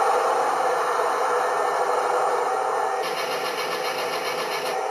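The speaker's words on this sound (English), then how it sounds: "you'll hear the motor or the engine sound going up" Electronic engine sound from a Torro Panther G Late Version 1/16 scale RC tank starting up, a loud steady droning rumble with a rattling buzz that shifts in tone partway through, no talk over it.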